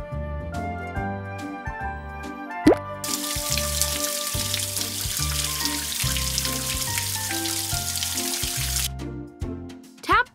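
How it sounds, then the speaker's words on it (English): Cartoonish running water rinsing a puppy's paws in a video game rushes steadily for several seconds over a bright, plinking game melody, then cuts off as the music carries on. "Let's rinse the pup's paws under the water to get them wet."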